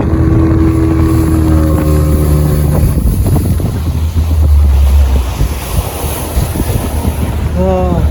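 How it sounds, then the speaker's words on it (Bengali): A motorboat pulls in at Ghatsila, its engine droning low and steady with wind buffeting the microphone and water washing along the hull, then easing off as the boat arrives. "আমরা বোটে করে, পৌঁছে গেছি।"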